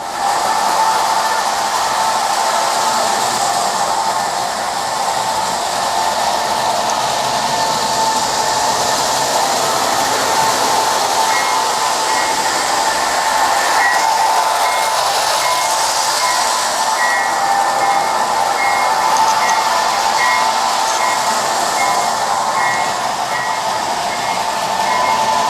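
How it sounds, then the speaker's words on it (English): A model train hums and whirs steadily on its track for a long stretch, with a constant motor drone and faint clicking. "He's got to slow the trains down when he operates them."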